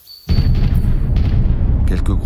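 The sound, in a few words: large artillery shells falling and exploding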